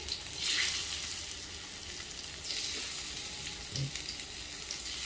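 Alu vadi (colocasia rolls) frying in a tempering over low gas, a steady close sizzle with soft crackling and occasional faint stirring, no talk.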